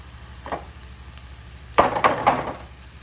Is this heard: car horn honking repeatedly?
no